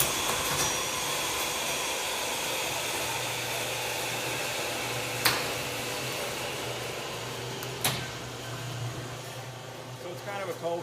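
A metal-cutting bandsaw works through steel in a home shop, giving a steady, loud mechanical whir and hum that runs on continuously with a couple of sharp clicks, while someone talks over it.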